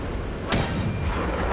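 A single loud tank gun blast sounds in a tank battle video game, a sharp boom with a lingering rumbling tail over steady background battle noise.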